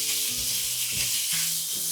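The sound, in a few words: pork belly frying in a dry wok without oil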